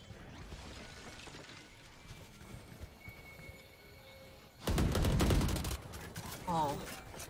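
Gunfire in the video game Valorant at an esports match, quiet clicks and faint shots early, then a loud burst of rapid fire in the second half with a short voice snatch near the end.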